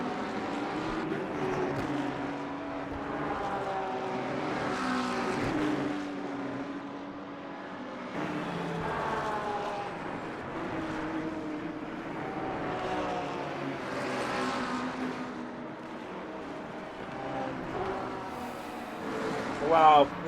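LMP2 prototype race cars lap the Circuit of the Americas in Le Mans Ultimate. Engine notes rise and fall as the cars pass and shift, staying moderately loud under constant commentator talk.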